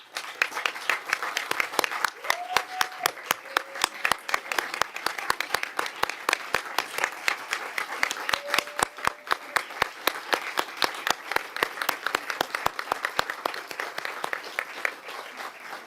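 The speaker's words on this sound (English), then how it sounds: "Please join me in a round of applause for John." An audience at a board business meeting applauds a retiring colleague named John, with sustained, dense hand clapping from a roomful of people that stays steady and fairly loud for the whole stretch, without voices standing out.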